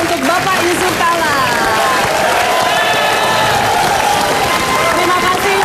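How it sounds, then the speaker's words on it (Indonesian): Loud, dense studio audience applause with cheering fills the whole stretch, steady and close, with a host's voice speaking over it at a televised talk show. "Tepuk tangan sekali lagi yang meriah untuk Bapak Yusuf Kala."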